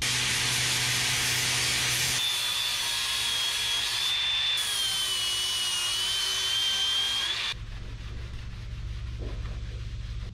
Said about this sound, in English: I never did grind down these screws.